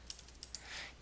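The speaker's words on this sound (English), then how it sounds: "first you get started by typing in your URL" A few quick, faint keystrokes tap on a computer keyboard while a website address is typed in, sparse clicks spread over about a second.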